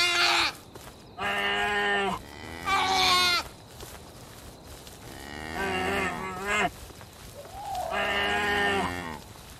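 A moose in The Cenozoic Era video game gives several long, loud, drawn-out moos one after another, each lasting about a second, with quiet forest ambience between calls.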